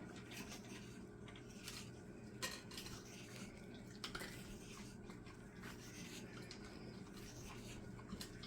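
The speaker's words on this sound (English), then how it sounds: "And just stirring away, just still stirring" A utensil scrapes and clinks repeatedly inside a small plastic medicine cup while resin is stirred, a quiet, close, uneven tapping and rubbing with no one speaking.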